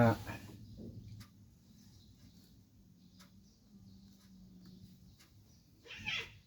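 A cat meows faintly at the start and again near the end, with quiet background noise and faint talk in between.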